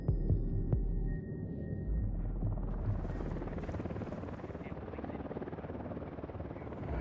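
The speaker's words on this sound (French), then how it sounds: "Un hélico à plat ventre!" A helicopter in the Ghost Recon Wildlands video game throbs loudly and steadily nearby, its rotor pulse filling the scene after a few brief game sounds at the start.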